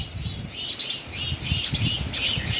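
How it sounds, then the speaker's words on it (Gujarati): Sparrows in a Gujarat village farmyard chirp in quick repeated bursts close at hand, with a soft low fluttering underneath and no voices. "જોઈ લઈએ ચકલીઓ કેવી રમી રહ્યું છે."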